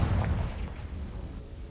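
A Confringo blasting spell cast in Hogwarts Legacy makes a deep, rumbling blast that fades over a moment and sits low and heavy with no talk over it.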